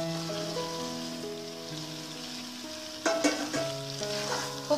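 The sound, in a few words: fried raw jackfruit sizzling as it is added to the pan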